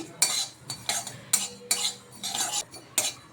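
Sesame and poppy seeds are dry-roasted in a wok, with a spatula scraping and clinking against the metal in a steady rhythm of about eight strokes. A faint sizzle sits underneath and nobody speaks.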